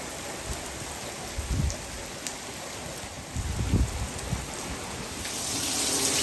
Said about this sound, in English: it is raining even harder now